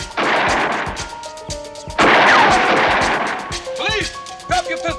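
Gunfire in a police drama shootout: several sharp, loud shots ring out in quick succession, with echoing tails and a clatter, while voices shout over them.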